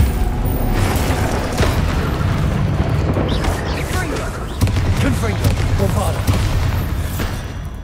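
Repeated booming blasts from Confringo spells in Hogwarts Legacy, heavy explosions layered under a voice, with debris rumble between bursts.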